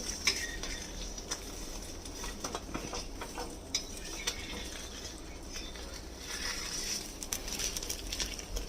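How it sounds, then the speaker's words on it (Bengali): Knife or spatula strokes chop a folded omelette into small pieces in a pan, a quiet run of irregular taps and scrapes with light clinks, no voices. "ফোল্ড করে নিলাম নিয়ে এবার এটাকে এরকম ছোট ছোট পিসে কেটে নেব"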